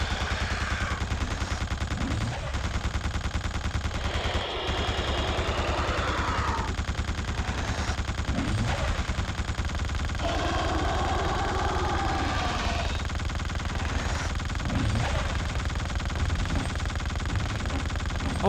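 Gunfire in the video game The Suffering crackles in rapid repeated bursts like a machine gun, continuous and moderately loud over a low droning background with occasional other game noises.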